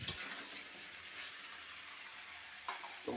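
Spice masala for a thin Bangladeshi village-style chicken curry fries in a pot with a steady, moderate sizzle, briefly stirred near the end; no voices.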